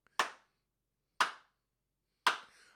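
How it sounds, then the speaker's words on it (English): Three single sharp hand claps from someone, a signature clap done in a live stream, loud and close with even gaps of about a second and silence between them. "He's about to do the clap that he always does."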